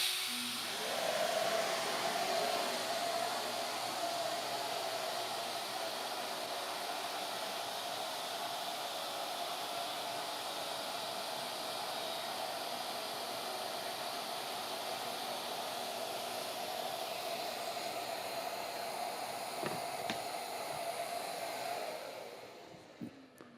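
A power tool cuts a wedge tenon to full depth at a woodworking workstation, giving a steady, loud whirring hiss that runs almost unbroken for about twenty-two seconds and then stops abruptly.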